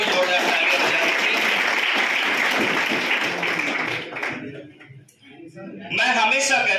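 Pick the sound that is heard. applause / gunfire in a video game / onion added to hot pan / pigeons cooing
applause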